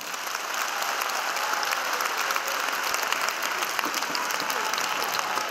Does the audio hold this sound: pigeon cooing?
no